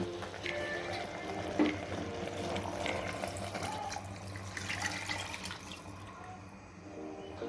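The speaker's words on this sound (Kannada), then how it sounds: "ಅದಕ್ಕೊಂದು 6 ಲೋಟ ನೀರು ಹಾಕ್ತಾ ಇದ್ದೀನಿ" Six glasses of water pour steadily into a pot of rice with a continuous splashing, gurgling flow, close by and moderately loud, with no talking.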